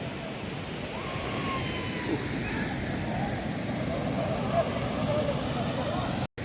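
Water pours at Kaineeri waterfall, flowing into a tunnel with a constant, dense roaring rush that stays steady throughout, close and loud.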